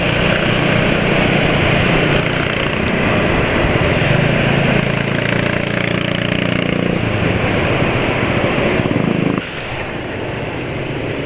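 A motorcycle engine running on Idemitsu JASO MB oil hums steadily and loud throughout while riding, a continuous smooth drone that drops slightly near the end.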